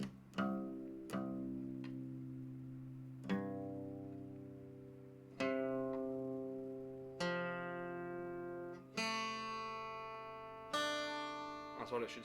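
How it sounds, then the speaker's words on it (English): A guitar in drop D tuning is strummed six times, each chord ringing out and fading before the next, clear and close in a quiet room. "So yeah, I want your guitar in drop D tuning"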